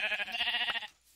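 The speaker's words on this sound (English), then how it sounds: "Alright, you guys all see this sheep, right? This beautiful sheep." A video game sheep gives one close, clear bleat lasting under a second, followed by near silence.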